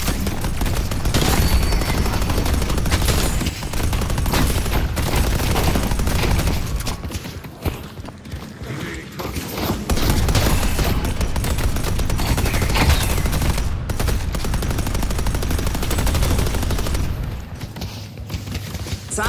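Sustained automatic gunfire from a deployed turret in the video game Deadlock, loud and continuous with rapid bursts and booms, briefly easing midway before resuming, with no talk over it.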